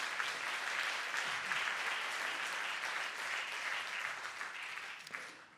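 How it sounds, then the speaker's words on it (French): Sustained audience applause at a city economy awards ceremony in Gland, steady and dense for about five seconds, then tapering off at the end. "Applaudissons-les"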